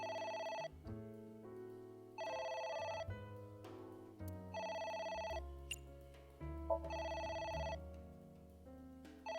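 A phone in the video game AI: The Somnium Files rings in repeated electronic bursts, each trill lasting about a second, separated by short gaps, over a soft layered musical background.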